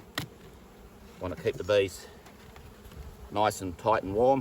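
Honey bees hum steadily from an opened weak single beehive being reduced into a nucleus hive, a close, continuous buzz running beneath someone talking.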